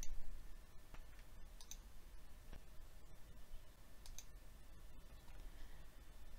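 Sparse, faint mouse clicks at a computer while a file is attached, scattered irregularly over a low steady room hum with no talking.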